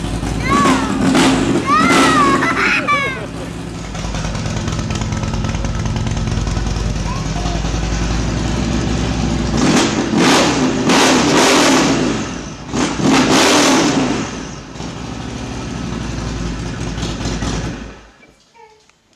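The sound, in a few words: Harley XR1200 with Vance & Hines Black Widow pipes revving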